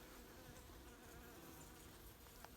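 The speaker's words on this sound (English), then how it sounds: "these are ivy bees," Ivy bees forage on a large stand of flowering ivy, and their buzzing makes a dense, continuous drone. Many bees are close by, and the sound stays at a steady level with no voices.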